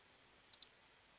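Two quick, crisp computer mouse clicks about a tenth of a second apart, close and clean against a quiet background, made while selecting window elements in RIB CostX estimating software.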